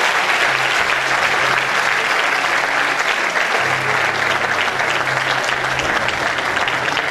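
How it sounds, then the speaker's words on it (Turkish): Applause for young performers fills an award ceremony hall, a dense, loud and continuous crowd clapping that holds steady throughout with a low hum beneath it. "sahnedeki küçük sanatçılarımız için, genç sanatçılarımız için büyük bir alkış rica ediyorum"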